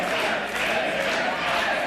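A wrestling crowd in Highland cheers for MsChif, a dense, continuous wash of shouting and cheering voices that stays fairly even across the short moment, heard from within the arena.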